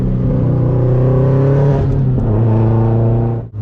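Loud, close engine roar from a 2004 Subaru WRX STI with a 400 hp stock-block engine, building under brake boost, then a brief dip near the end as the revs shift, with no talking.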